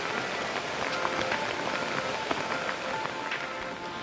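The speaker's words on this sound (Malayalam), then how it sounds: "നല്ല മഴ വരാൻ തുടങ്ങുകയാണ്" Heavy rain falls in a Kerala forest, a dense, steady patter and hiss of drops striking leaves and ground. It stays close and even throughout, with scattered louder drops and no talk.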